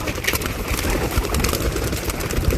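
A flock of pigeons taking off together outdoors, a dense, continuous flutter and clatter of many wings lasting a couple of seconds over a low background rumble, fairly loud and close.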